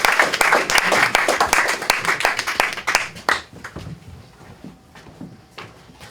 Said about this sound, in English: Your tepid smattering of applause means everything to me